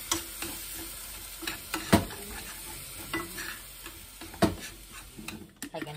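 Milk is added to a macaroni gratin sauce and stirred in a pan, giving soft sizzling under irregular clinks and scrapes of a utensil against the pan, heard close up with no one talking.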